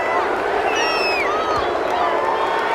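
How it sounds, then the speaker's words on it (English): Home crowd in the Madden NFL 21 football video game, Atlanta Falcons versus Tennessee Titans, cheering loudly and steadily after an interception call, a dense continuous roar with whistle-like calls rising above it. "This home crowd, they're happy with that call."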